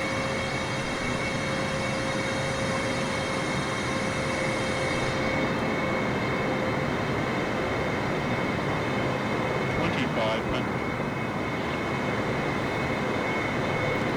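Airliner engines in Microsoft Flight Simulator hold a loud, constant droning roar with a steady whine, rising slightly in power as the plane levels off, continuous and close throughout.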